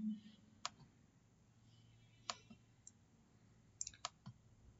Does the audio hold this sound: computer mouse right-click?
yes